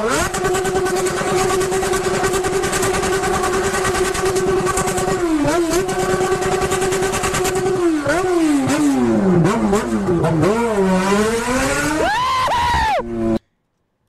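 Motorcycle engine in a video game, a steady loud drone through most of the stretch that then rises and falls in repeated revving sweeps before cutting off abruptly near the end.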